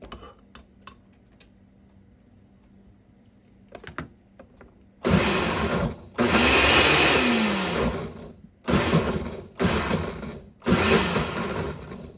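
A food processor runs in four loud whirring pulses, each lasting a second or two, after a few quiet clicks and taps.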